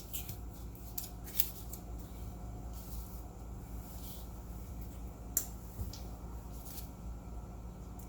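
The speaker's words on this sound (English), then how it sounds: "you can cut out some fish shapes" Paper snipped with scissors into small fish shapes, several crisp cuts spaced irregularly, one sharper snip standing out, over a steady low background hum.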